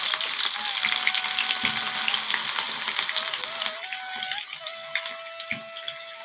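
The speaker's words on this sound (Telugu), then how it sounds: "కాకరకాయలు వేసుకున్నాము ఫ్రై." Sliced bitter gourd frying in hot oil, a loud continuous sizzle and crackle close by, steady throughout with a few light stirring knocks.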